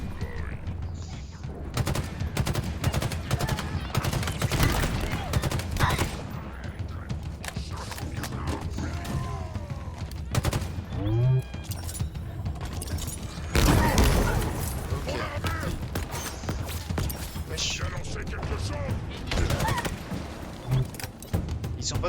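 An Elite fires on the player in Halo Infinite, sharp bursts of gunfire scattered through busy game action, with someone talking over it.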